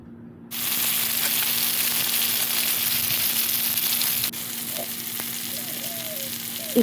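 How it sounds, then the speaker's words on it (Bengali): Masala for a Bengali katla fish curry sizzles steadily in a pan, a loud continuous frying hiss that dips slightly partway through, with a few faint clinks near the end. "যতক্ষণ না মশলা থেকে তেল ছাড়বে ততক্ষণ মশলাটা কষাতে হবে"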